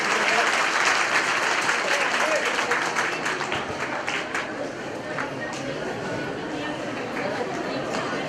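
A crowd claps together at a village primary school's January 26 celebration, with sustained, dense applause that fills the whole stretch and slowly eases in strength, while murmuring voices mix in beneath.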